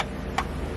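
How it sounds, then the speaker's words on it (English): A Subaru STi fuel pump priming right after the key is turned, a quiet steady hum with a faint ticking pulse and one brief click partway through, heard alone without talk. "the fuel pump turns on"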